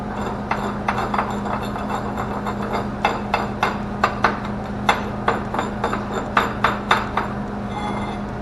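Slag being chipped off a fresh arc stick weld laid with a 6011 rod, a series of sharp metallic taps and clinks at an uneven, steady pace over a constant low hum.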